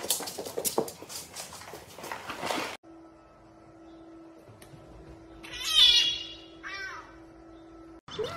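A small domestic cat meows a few times, short rising cries that are fairly faint against a quiet room with a steady hum, after a stretch of rustling handling noise.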